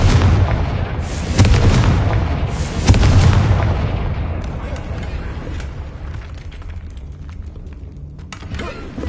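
A Confringo blasting curse explodes in Hogwarts Legacy, with loud booming blasts and rumbling debris at the start that fade into a lingering crackle and quieter game ambience, a spoken voice over it.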